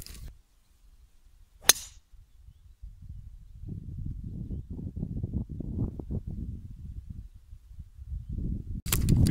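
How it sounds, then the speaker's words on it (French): A golf ball struck with a driver off the tee on a golf course with a headwind gives one crisp, loud crack, followed by quiet outdoor rumble and a second sharp click at the very end. "Une bonne balle, légèrement prise sur la socket, mais bien tapée, pile poil où je voulais qu'elle aille"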